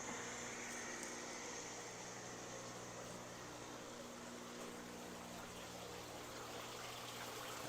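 Water pours steadily into an 800-gallon indoor fish pond through an opened valve, a constant soft rushing gush with a faint pump hum underneath.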